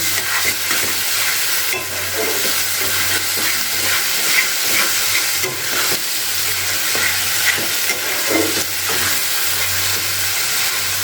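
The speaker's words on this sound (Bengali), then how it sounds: "কেটে টমেটো দিয়ে দিলাম দিয়ে একটু নাড়াচাড়া করে নিচ্ছি মশলাটাকে খুব ভালো করে কষিয়ে নিতে হবে" Spice masala with chopped tomato fries in a pan for dhaniya chicken, a loud, steady hiss of sizzling oil running throughout, with scraping stirring strokes breaking through it now and then.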